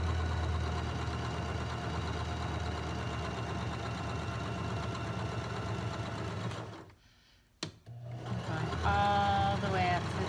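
A sewing machine runs steadily, stitching the side seams of a pink slip with a close, even mechanical whir. It stops abruptly for a moment, then starts up again as a voice speaks over it.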